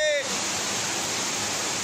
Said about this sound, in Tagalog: rumagasa ang matinding baha sa Compostela, Davao de Oro